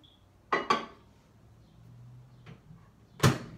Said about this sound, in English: You put it in the microwave.